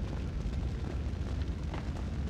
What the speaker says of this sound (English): The whole building was rigged with explosives.